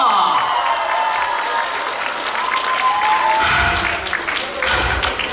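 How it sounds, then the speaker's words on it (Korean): A crowd at a celebratory concert performance applauds loudly, sustained clapping with some cheering mixed in, while a host's voice carries over it. "우리 민우가 더 훌륭한 에너지를 가질 수 있도록 박수 한 번 크게 더 부탁드립니다"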